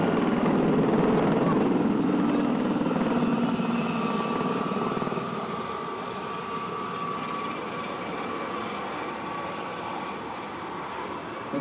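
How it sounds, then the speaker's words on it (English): Gazelle helicopters roar overhead at an airshow in Ayr, Scotland, a loud, steady rotor and engine drone that slowly eases as they pass. "it's a pretty fast helicopter as well"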